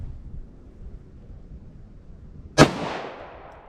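A single sharp pistol shot from a .40 S&W 130-grain Sellier & Bellot XRG Defense round during a ballistic gel test cracks loudly after a quiet stretch, then trails off in a fading echo.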